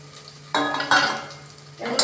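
Sliced potatoes and onion hit hot oil and are stirred, giving bursts of sizzling with scraping and clattering of a utensil against the pan, close and loud in two waves.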